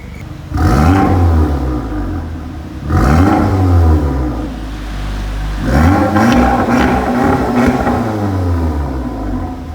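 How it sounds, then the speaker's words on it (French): An Audi S3 engine revs three times, each one a loud, close rising vroom that then falls back, with a quieter idle between the pulls and no voices. "On va entendre des petits revs."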